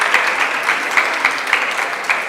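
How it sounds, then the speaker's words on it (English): Steady applause from a conference room full of people welcoming speakers, dense and fairly loud, with faint voices underneath. "Please, let's welcome our speakers with a quick clap"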